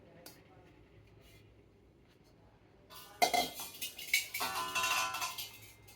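A brass wok is picked up and handled, producing a burst of clanking and ringing metallic clatter after a quiet start.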